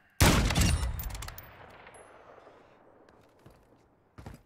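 Gunfire in Call of Duty DMZ strikes hard and loud at the start, a dense burst of shots that trails off into a long, decaying rumble, with a second short, sharper crack near the end.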